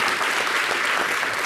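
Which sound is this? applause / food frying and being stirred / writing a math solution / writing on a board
applause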